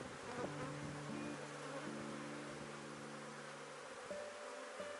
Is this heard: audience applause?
no